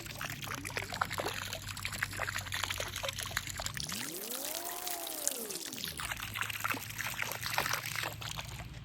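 Pool chemical glugs steadily from a bottle in a continuous close pour, with trickling and a rising, bubbling tone partway through.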